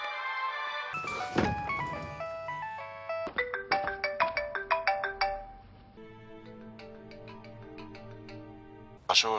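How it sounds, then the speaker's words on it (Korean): Several telephones sound in succession, mixing ringtone melodies and electronic chimes that start loud, thin out into a quieter repeating trill and end on a sharp burst. "수많은 전화기 중 하나가 울리고"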